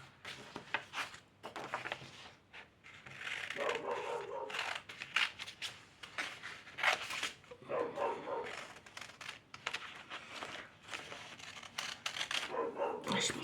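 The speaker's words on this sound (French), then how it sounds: "Je pense qu'elle a peur en fait, c'est pour ça qu'elle jappe" Small dog yapping in short repeated bursts at moderate distance, mixed with intermittent conversation in French and some background rustling throughout.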